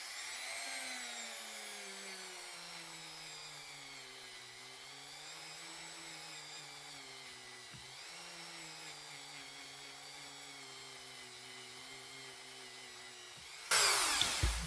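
A power polisher works the blade of a refurbished Midaka folding knife, a steady whining drone whose pitch sags and rises slightly under load, ending in a sudden loud burst of noise.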